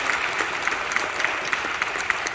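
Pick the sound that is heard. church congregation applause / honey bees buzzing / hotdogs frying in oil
church congregation applause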